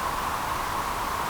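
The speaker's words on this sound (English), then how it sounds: "I'm doing pink noise" A steady pink noise test signal runs through an SSL channel strip plugin, a constant, even hiss that holds unchanged and alone for its brief duration.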